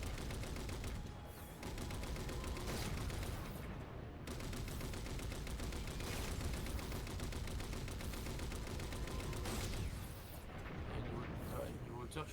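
Cannon fire from a vehicle in the shooter Halo 4, with repeated heavy blasts and rattling bursts running continuously and loud, while game noise keeps going throughout.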